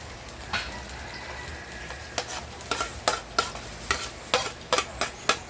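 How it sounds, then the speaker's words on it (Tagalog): Garlic and onion sautéing in butter in a pan, a steady close sizzle broken by a series of sharp scraping stirs that come faster toward the end, with no talking. "So, meron akong butter. And, igigisa ko dyan ang bawang sibuyas."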